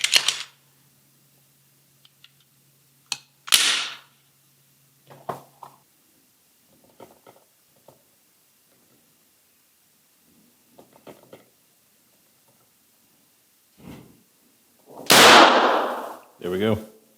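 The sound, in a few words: Glock 19 Gen 5 pistol firing without trigger pull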